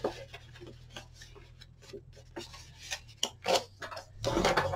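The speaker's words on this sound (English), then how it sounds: "you can go ahead and just kind of fold and burnish." Scrapbook paper being folded and burnished by hand, a run of soft rubbing and scraping strokes with a few sharper crinkles, close and fairly quiet, with no talking.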